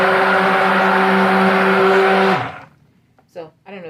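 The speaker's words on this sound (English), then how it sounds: "So all the cars that are driving by is making this really loud noise." A car drives past on a wet, rain-soaked road with a loud, close hiss of tires that cuts off sharply partway through, followed by a few quiet spoken words.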